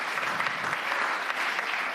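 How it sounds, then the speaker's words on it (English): An audience at the Munich Security Conference gives sustained applause, a dense, even wash of clapping from many hands filling the hall without pause. "You can applaud."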